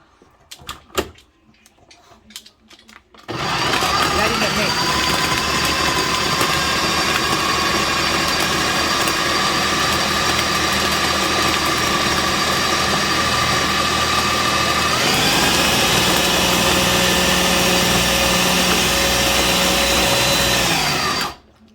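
An electric mixer kneads pupusa dough, starting abruptly after a few faint handling knocks and then running as a steady, loud motor whine and hum, shifting pitch slightly partway before cutting off at the end.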